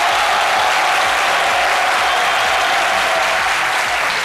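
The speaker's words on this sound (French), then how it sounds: "je vous demande d'applaudir très fort" Loud, sustained applause from a studio audience on a French game show, a dense steady wash of clapping that runs the whole time without a break.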